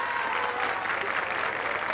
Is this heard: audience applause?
yes